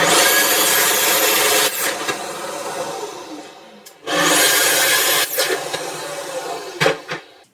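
A Festool HK55 carpentry circular saw makes two loud, close cuts through wood on a guide rail. Each cut is a steady high whine with rough rasping and ends as the blade spins down.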